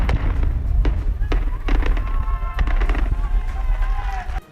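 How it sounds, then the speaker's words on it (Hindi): Sharp blasts and thuds crack out over a steady low rumble as explosives blast the last rock of a tunnel, with a few separate bangs spread across a noisy outdoor scene. "इस धमाके से सुरंग के दोनों छोर एक दूसरे से मिल गए"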